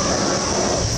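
A freight train carrying M1A2T tanks rolls through the United States, a dense continuous rumble and rattle of rail cars heard close and steady.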